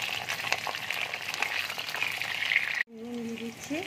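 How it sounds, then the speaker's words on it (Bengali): Potatoes go into hot oil and fry with a steady, close sizzle for nearly three seconds, then it cuts off and a quieter stretch follows with faint tonal clinks. "এবার আমি আলুগুলো তেলের মধ্যে দিয়ে দিচ্ছি।"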